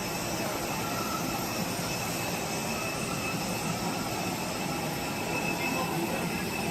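Steady, loud jet engine roar of an airliner at the airport before a Manila to Davao flight, a continuous broadband rush with no break throughout.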